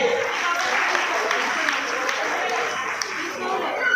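Audience applause for a child who won state and national gold medals in skipping: a steady wash of clapping that mixes with a voice speaking throughout.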